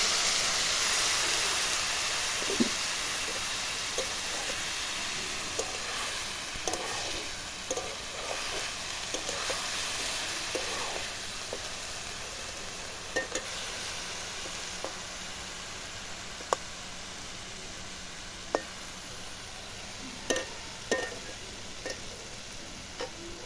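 Sliced taro (shola kochu) sizzling steadily in a pan after a little water is added, a constant close hiss with scattered small ticks and pops, no talking.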